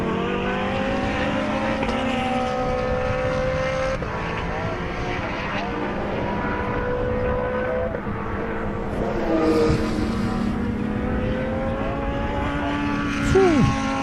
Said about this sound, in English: Listen to the sound of that car. I can hear it from here, all that downshifting happening.